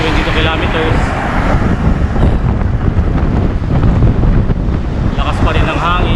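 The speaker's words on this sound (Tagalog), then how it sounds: "Lakas pa rin ng hangin" Strong headwind roars across the microphone during a long-distance road bike ride in the Ilocos region, a constant loud buffeting rumble with speech faintly mixed in.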